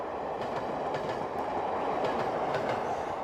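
A Chinese passenger train with coaches, including flush-sided cars based on an East German design, rolls along the rails in a steady, continuous rumble with faint rhythmic clickety-clack from the wheels.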